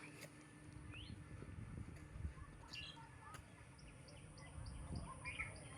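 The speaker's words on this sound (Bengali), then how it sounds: "ভালোই পাখির ডাক শোনা যাচ্ছে।" Scattered bird chirps and calls rise over a steady low rumble on a foggy rural roadside morning near Benapole, heard from a moving van; the calls are moderately distant and intermittent, never loud.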